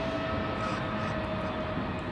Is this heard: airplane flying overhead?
yes